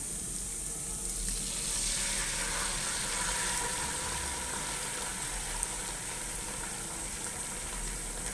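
Garlic and ketchup fry in a pan with a steady, close sizzle and crackle that holds throughout, no voices over it.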